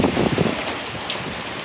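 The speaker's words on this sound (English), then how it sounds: "it's like raining really hard right now" Heavy rain pours steadily during a storm, a loud, dense hiss of drops hitting surfaces close by, continuous and unbroken for the whole moment.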